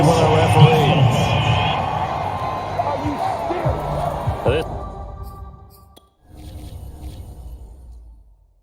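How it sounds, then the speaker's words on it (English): A home crowd cheers in a Madden American football game, a loud roar with whoops that fades and then drops out, while commentators talk over it. "Home crowd, they're happy with that call."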